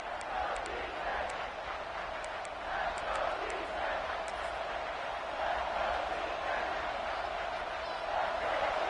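A home stadium crowd roars steadily at a Tennessee vs Arkansas college football game as the defense faces third down, a dense, sustained cheer filling the whole stretch with scattered shouts and whistles.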